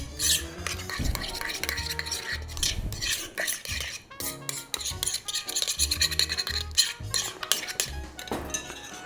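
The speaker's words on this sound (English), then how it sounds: "Get in there, mix it up in a bowl that is way too big for what you're doing." Raw shrimp tossed with paprika in an oversized mixing bowl, giving steady wet stirring and scraping with light clinks of utensil against the bowl, close and continuous, no talking.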